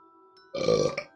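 A loud, close burp rises abruptly after a quiet stretch of faint steady hum, rolling for about half a second with a brief second pulse at the end.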